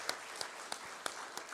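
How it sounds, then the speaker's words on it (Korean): Sparse, separate claps from a church congregation during a Sunday worship service, about five soft hand claps spaced evenly, quiet and a little distant in the room, with no voices over them. "다시 한번 감사의 박수 하시겠습니다"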